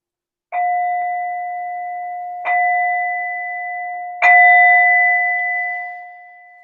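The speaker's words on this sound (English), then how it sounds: "I'll ring the bell and introduce the stages" A meditation bell is struck three times at a steady slow pace, each loud, clear tone ringing on and overlapping the last before fading out at the end, with no voice.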